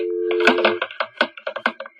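A telephone sound effect in a vintage radio horror drama: a steady electronic ring tone at the start, followed by a run of sharp clicks and short bursts, close and fairly loud with no talk over it.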